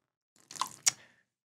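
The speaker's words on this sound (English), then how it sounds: "Oops, I spilled." Liquid splashes onto a blue water-resistant Sontara fabric drape, two short close wet patters about a quarter second apart in an otherwise quiet room, the second sharper.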